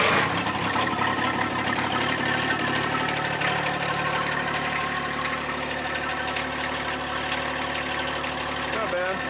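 A John Deere 1025R compact tractor's diesel engine settles into a steady, loud idle after a cold start on a cool day, its even chugging drone holding throughout.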